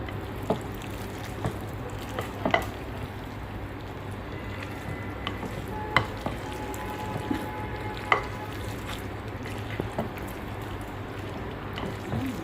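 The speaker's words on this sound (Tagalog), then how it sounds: "atin nang haluin ang ating homemade carbonara" Homemade chicken carbonara is stirred in a pan, giving a steady soft sizzle with scattered clicks and scrapes of the spoon against the pan at an irregular pace.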